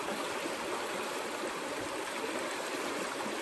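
Creek water swishes and rushes steadily through a gold pan while prospecting, a dense, even hiss that stays loud and close for the whole stretch.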